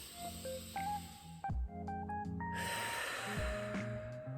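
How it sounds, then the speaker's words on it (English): A slow, deep breath is drawn in and let out, with a snort-like inhale and audible airflow, close and fairly quiet against a soft background of faint room tones. "But let's take a breath together."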